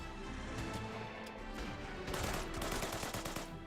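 Japanese troops fire in Order of Battle: Burma Road, a rapid burst of close, loud gunshots and crackling volleys that carries on through the whole stretch with no talk.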